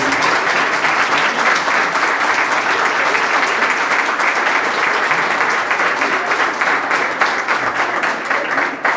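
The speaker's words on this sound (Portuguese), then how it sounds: "Palmas, meu Senhor." A congregation breaks into steady applause at a collective wedding ceremony, many hands clapping in a dense, even roar for about nine seconds, fading slightly at the end.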